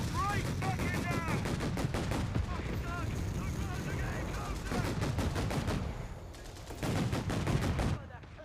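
Rapid bursts of machine gun fire from a Company of Heroes 3 battle, loud and sustained with repeated rattling volleys and a short lull near the end, mixed with other gunfire and game music; a voice talks over part of it.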